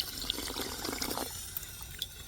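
Water fountain running during a hot-weather training run, a close splashing, trickling stream that gurgles unevenly for a moment before settling into a softer flow.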